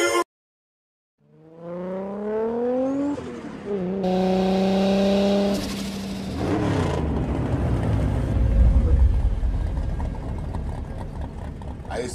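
A borrowed Toyota Supra launches in a drag race, its engine revving hard and climbing through several gears, staying loud and close, then settling into a steady roar with road and tire noise.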